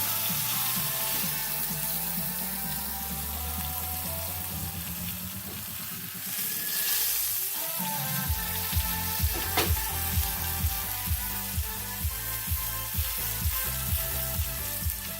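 Loud, steady sizzling and crackling of sirloin steak searing in butter in a hot frying pan, with a brief scraping shift midway followed by rhythmic popping spatters.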